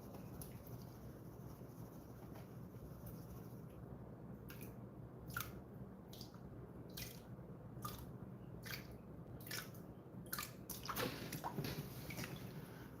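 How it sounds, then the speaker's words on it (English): Gold pan swirling and sloshing water while tailings classified to a quarter inch are panned, a steady wet churn with scattered splashy drips and squishy bursts, close and continuous. "I'm going to pan through the tailings"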